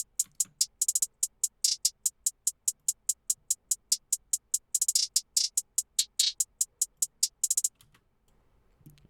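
An FL Studio trap drum pattern of crisp, bright hi-hats in a two-step rhythm with quick rolls and glitchy bursts, playing alone and then cutting to near silence near the end.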